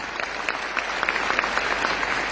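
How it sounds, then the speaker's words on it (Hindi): Audience clapping steadily and loudly for about two seconds, a dense crowd of hands with no voices over it. "मैं चाहूंगी सबसे पहले मामचंद सर के लिए एक बार जोरदार तालियां होनी चाहिए।"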